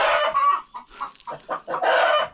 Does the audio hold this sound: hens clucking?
yes